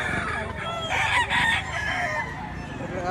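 A rooster crows near a vendor's stall at a chicken market in Padre Garcia, Batangas. It gives one drawn-out, loud call across the whole stretch, with clucking fowl mixed into the noise.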